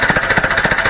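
An old Ursus C-360 tractor engine runs after starting, a loud, fast, knocking diesel chug with a steady rhythmic beat close to the microphone.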